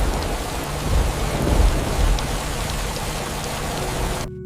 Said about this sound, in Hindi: उसी रात गांव में बहुत तेज बारिश आती है।